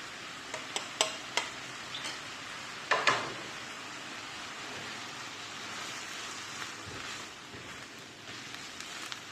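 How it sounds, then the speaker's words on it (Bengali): Snake gourd cooked with ground coconut, roasted coriander powder and coriander leaves in a Bangladeshi-style fry is stirred in the pan: a few scraping clicks early on, then a steady soft sizzle throughout. "ব্যাস ভালোভাবে নেড়ে নিয়েছি"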